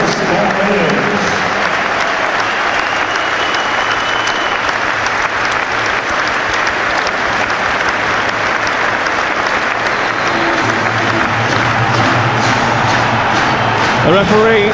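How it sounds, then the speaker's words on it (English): A packed Sheffield Wednesday stadium crowd holds a minute's applause before the EFL Championship match against Southampton in memory of Trevor Francis and Chris Bart-Williams, with dense, loud, unbroken clapping that holds steady throughout. "The referee, Bobby Madley, blows his whistle to signify the end of the minute's applause."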